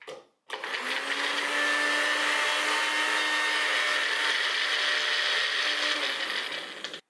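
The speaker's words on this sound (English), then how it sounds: "I want to see how finely and evenly the magic bullet will mince the garlic." A Magic Bullet blender runs steadily for about six seconds mincing two peeled garlic cloves in the tall cup, a loud, close, whining motor with a constant pitch that cuts off abruptly.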